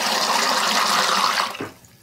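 Melted soy wax at about 170 degrees Fahrenheit is poured from a spigot for candle making: a steady close liquid rush that stops abruptly near the end.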